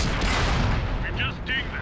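Tank cannon fire striking an enemy in World of Tanks, heard as a loud low boom with rumbling impact and debris that fades, followed by brief electronic game tones.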